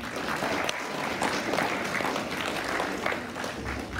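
Sustained applause from a conference audience at a red carpet event, a dense steady wash of many hands clapping at close range that carries on evenly from start to finish.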